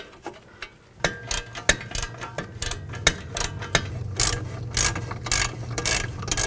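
A ratchet clicks rapidly and steadily as hub bearing bolts are tightened on a 2010-16 Buick LaCrosse, close-up metallic pawl ticks running in bursts with brief pauses.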